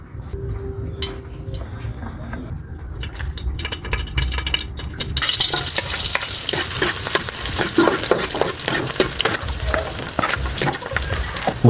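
Garlic sizzles and fries in a pan for chicken adobo with coconut milk, with scraping and stirring against the pan throughout. The frying grows louder and brighter about halfway through.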